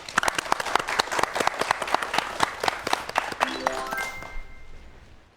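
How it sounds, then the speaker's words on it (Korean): Audience applause at a Korean science talk show on science fiction films and time travel, welcoming guests: a dense burst of many hands clapping with sharp individual claps, nearby and loud, gradually thinning and fading out at the end. "여러분 박수로 청해보도록 하겠습니다."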